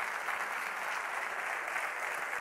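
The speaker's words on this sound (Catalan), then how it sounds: "Aquest aplaudiment des de Vegas." Applause from an audience at the Premis Ànima Beguetana 2024 awards ceremony in Begues: steady, dense clapping that holds at an even level throughout with no voices over it.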